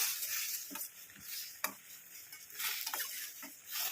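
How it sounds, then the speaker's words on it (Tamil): Sugar being stirred into a homemade face-pack mixture in a small bowl, giving soft scraping and grainy swishing strokes with a few sharper clinks of the spoon, close and fairly quiet, with no talk. "சுகரை சேர்த்துட்டு நல்லா இதில் மிக்ஸ் பண்ணிக்கலாம்."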